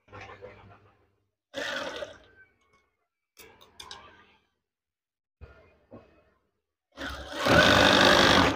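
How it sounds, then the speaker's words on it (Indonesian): A sewing machine stitches curtain fabric in several short, separate bursts with pauses between, ending in a louder, sustained whirring run; the motor sounds close. "Sewing and sewing. Ini jahit saja. Sewing."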